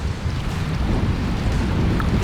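Steady roaring wind buffets the microphone aboard a moving boat on a bear-hunting trip at Monts-Valin, a loud, constant rush with no voices.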